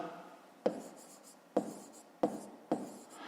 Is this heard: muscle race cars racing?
no